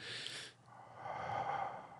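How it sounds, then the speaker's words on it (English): Heavy breathing close to the microphone, a loud rushing exhale followed by a brief pause and then a longer drawn breath, with no talking. "you're breathing really loud in the microphone again."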